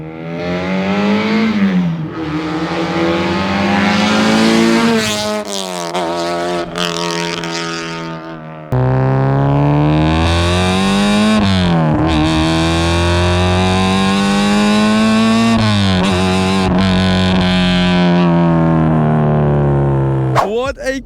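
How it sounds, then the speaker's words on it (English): Honda with a K-series engine swap, built as a track-spec car, revving hard against launch control: loud, raw, raspy engine note held near the limiter with rapid rising and bouncing revs, close by and continuous. "Is that launch control? That's launch control there."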